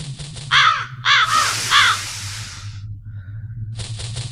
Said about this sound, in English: That damn crow.